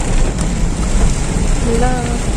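Heavy typhoon rain and wind outdoors, a loud, dense, continuous roar of downpour with gusting noise throughout, and a faint voice briefly audible beneath it.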